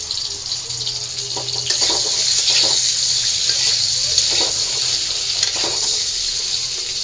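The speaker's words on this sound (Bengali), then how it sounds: "আর এই পাশে যে আমি দুটো ডিম মামলেট করে নিচ্ছি" Two eggs frying as an omelette in a pan in a home kitchen, a steady close sizzle with scattered clinks and scraping of a utensil against the pan.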